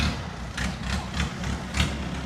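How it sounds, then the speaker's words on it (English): A long-tail boat's throaty engine idles nearby on a river in Kanchanaburi, Thailand, a low rumbling drone with a regular pulsing beat, heard alone without talk. "Sounds a bit of a throaty engine on it."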